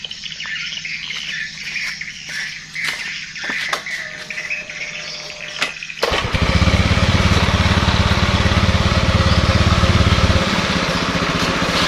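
A Honda Beat FI injection scooter that has trouble starting, first quiet clicks and rattles of the kick-start amid birdsong, then the engine catching at once and settling into a loud, steady close idle.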